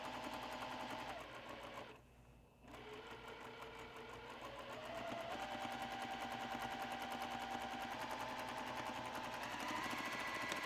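A Juki sewing machine stitches a quilt without a walking foot, whirring in a steady, rapid mechanical buzz that stops briefly, then resumes and keeps running at a varying pitch.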